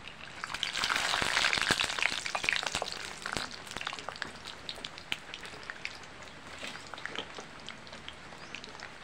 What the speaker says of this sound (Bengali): এখন এই বাদামগুলো ভাজবো।